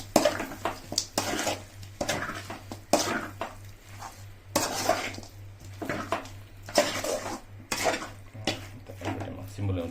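A spoon stirs fenugreek chicken curry in a pot, giving repeated clanking scrapes against the metal in uneven bursts over a low steady hum.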